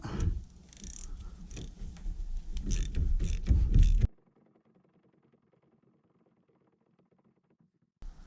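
A ratchet tightens the steering shaft bolt on a 1996 Dodge 3500 with a 12-valve Cummins, making rapid, close clicking for about four seconds, mixed with some voices, before dropping into near silence.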